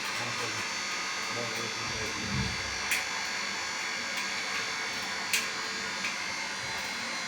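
A cotton candy machine spins with a steady, even electric whir that holds at one level throughout, with faint background voices.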